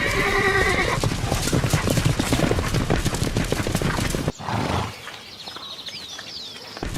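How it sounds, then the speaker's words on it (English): Galloping horse, with rapid hoofbeats drumming loudly for several seconds before cutting to quieter outdoor ambience with bird calls. "A galloping horse travels at about 45 kilometers per hour"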